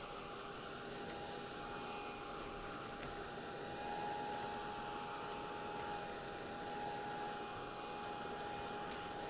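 A hair dryer drying paint on a flower painting gives a steady, faint blowing whir with a constant tone that holds evenly throughout.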